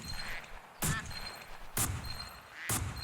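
A shotgun fires three times in the Duck Dynasty Xbox 360 video game, sharp evenly spaced blasts about a second apart over a quiet outdoor background.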